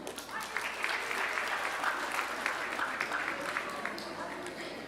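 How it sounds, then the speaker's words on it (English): A school awards audience claps steadily throughout, a dense patter of applause at moderate loudness. "Give a big round of applause for our top science students."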